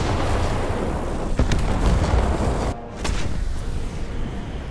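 A tank cannon shot slams into the player's British tank in War Thunder arcade battles, a loud close impact. A second, sharper crack comes a moment later, over rumbling battle noise.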